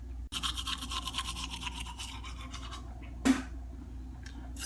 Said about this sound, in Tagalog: Tututbrush naman tayo.